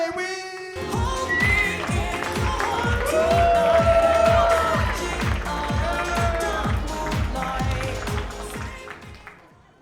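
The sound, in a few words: comedy club audience cheering and clapping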